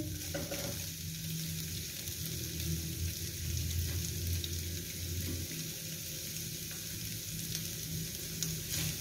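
Carrots and chicken frying in a pan with garlic paste for samosa filling, giving a steady sizzle with stirring scrapes throughout, close and alone with no talk.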